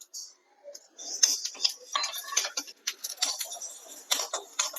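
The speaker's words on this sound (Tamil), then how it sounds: "கடுகு வெந்தயம் பொரிஞ்சிச்சு, எடுத்துக்கலாம்." Mustard seeds and fenugreek roasting dry in a pan for a Tamil pirandai pickle, crackling in scattered sharp pops and ticks that come in close, irregular bursts.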